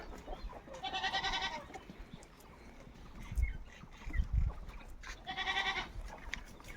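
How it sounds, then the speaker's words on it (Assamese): A Karli Kota breed goat bleating twice in separate, wavering calls, fairly close, with quiet farmyard rustling and low thumps between them. "কাৰলি কটা ছাগলী"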